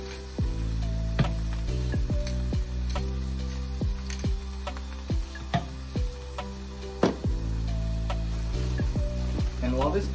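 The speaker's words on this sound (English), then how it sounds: "And while this first patty is cooking" A burger patty sizzles steadily in a pan, a constant frying hiss broken by recurring clicks and taps, heard up close.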